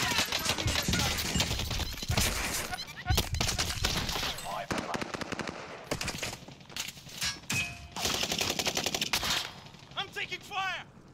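Video game gunfire with bursts of rapid automatic shots and single cracks spread through the stretch, loud and close, with a voice talking in between.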